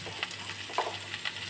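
Capsicum and onion fry in a pan for capsicum masala, giving a faint, continuous sizzle with a few light scraping stirs.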